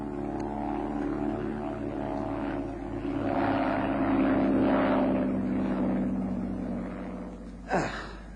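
An early propeller airplane drones steadily with a layered, humming engine tone that swells mid-clip, then a brief whooshing rush near the end as it comes down to land.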